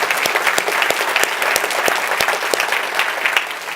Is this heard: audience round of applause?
yes